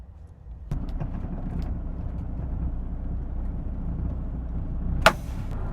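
A diesel truck due for a forced DPF regeneration rumbles to life and keeps running at a steady, fairly loud idle as it is pulled outside, with wind buffeting and one sharp knock near the end.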